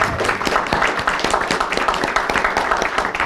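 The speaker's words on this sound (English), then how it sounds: "if we can show one more round of applause for all the speakers" Audience applause for the speakers on a justice-for-Soleiman-Faqiri panel in Vancouver: dense, steady clapping from a room full of people that holds at a fairly loud level for the whole stretch.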